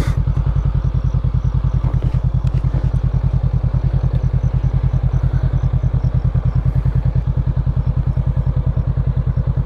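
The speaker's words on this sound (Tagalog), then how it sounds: "May motor pala. Patay tayo." Motorcycle engine on a narrow coastal highway, a steady, loud, rapid chugging putter that runs unbroken and close by for the whole stretch.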